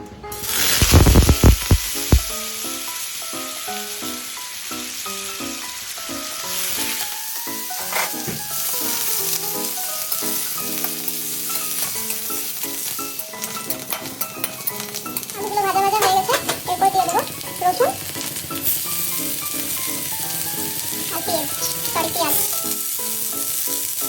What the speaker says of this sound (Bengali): তো এবার প্রথমে দিয়ে দেব আলুগুলোকে দিয়ে ভেজে নেব।